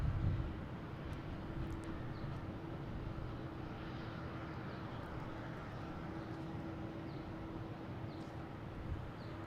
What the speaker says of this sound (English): Next to arrive, we have a Delta coming in from Savannah, E175